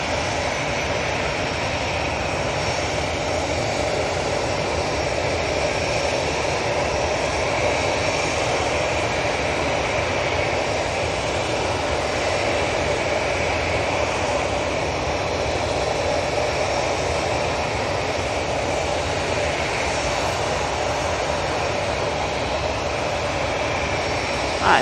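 EasyJet airliner engines at Manchester Airport produce a continuous, loud, even jet roar that fills the whole span without pause, and no one speaks.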